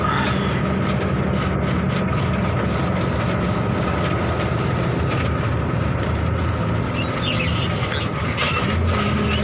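A Hino 344 heavy truck loaded to about 45 tonnes labours uphill, its engine a loud, steady, dense drone with falling revs and a broad rumbling roar that fills the whole stretch, with no talk.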